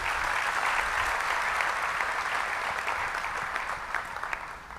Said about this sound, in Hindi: एक बार मुझे पूरा सदन तालियों से आश्वस्ति दीजिए।